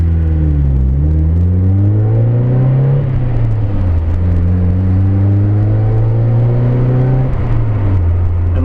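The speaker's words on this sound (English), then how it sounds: "I'll let you guys listen to that exhaust if you can." A car exhaust drones loudly and steadily, its pitch rising and falling as the engine revs up and eases off through gear changes.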